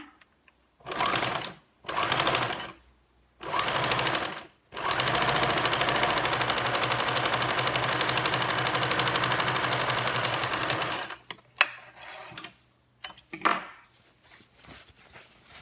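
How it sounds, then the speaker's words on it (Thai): A sewing machine stitches a trouser pocket seam. Three short bursts of stitching are followed by one long steady run of about seven seconds, then the motor stops and a few soft clicks and handling sounds follow. "มาเย็บกันเลยค่ะ จะเย็บเป็นตะเข็บเข้า"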